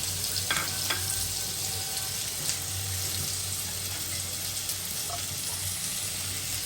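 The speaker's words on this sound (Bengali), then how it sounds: "রসুনটা ভাজা হয়ে গেছে, এখানে পেস্টটা দিয়ে দিব।" Garlic frying in oil in a pan, a steady close sizzle and crackle that holds throughout, with a couple of faint spatula taps early on and a low hum beneath.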